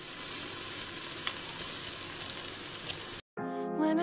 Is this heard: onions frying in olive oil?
yes